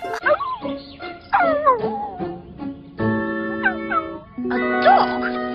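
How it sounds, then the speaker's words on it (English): A dog yips, whimpers and howls in a series of high, wavering cries that rise and fall, close and fairly loud. "A dog?"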